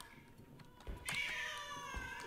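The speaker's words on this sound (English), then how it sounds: "I don't like the sound of the kitty cat." In the horror game Judas, set in a haunted apartment, a cat gives one drawn-out meow at moderate loudness after some faint clicks and thumps, with no speech.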